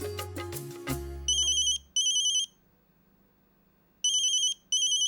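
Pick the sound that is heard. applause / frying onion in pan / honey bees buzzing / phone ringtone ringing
phone ringtone ringing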